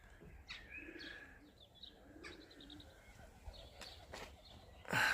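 Irish Old School Tumbler pigeons, young birds, coo softly in repeated low rolling phrases, with scattered chirps and light knocks, fairly faint and unaccompanied by speech.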